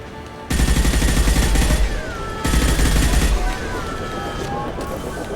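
Loud automatic gunfire blasts away at injection tubes in Mass Effect 2, two long rapid bursts separated by a short pause, with a steady roar of battle noise continuing beneath and between them.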